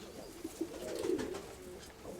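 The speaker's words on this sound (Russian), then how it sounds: "А вот второй голубенок" Young pigeon cooing softly, a single low, wavering coo that swells in the middle and fades, faint and close with quiet room noise around it.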